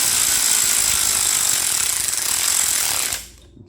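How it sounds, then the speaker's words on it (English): An electric ratchet runs in engine bolts on a forged VQ37VHR build, giving a steady, loud buzzing whir that holds for about three seconds and then winds down as the throttle is released. "if you're using an electric ratchet like that,"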